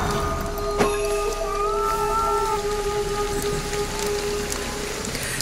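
Steady rainfall in Ghostwire: Tokyo hisses evenly throughout, with a few faint tonal hums and a brief sharp knock early on; no voices.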